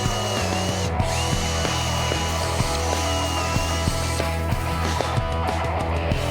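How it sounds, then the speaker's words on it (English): A power drill with a 3/8 inch bit enlarges a pilot hole in wood, a steady loud motor whine with small bumps and clicks as the bit bites, running continuously without speech. "use a 3/8 inch drill bit to enlarge one of the"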